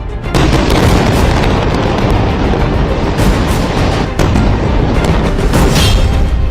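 Loud, heavy blasts and rumbling booms from Israeli strikes in Gaza roll on almost without a break, with sharper cracks breaking through a dense, roaring wash of noise.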